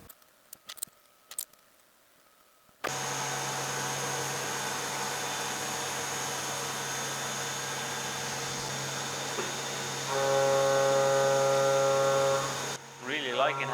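A Syil X7 CNC milling machine cuts at higher spindle RPM, a loud, steady whine with a continuous hum that holds and then rises in pitch near the end, after a few quiet clicks.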